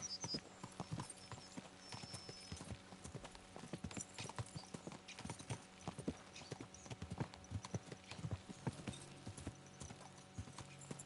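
Horse hooves clip-clop steadily in the video game Kingdom Come Deliverance 2, a quick, even trotting rhythm heard close and alone without talk.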